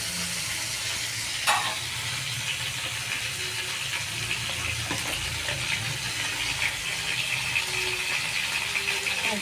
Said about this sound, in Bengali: টমেটো, কাঁচা লঙ্কা সব কিছু ভালো করে ভাজা হবে।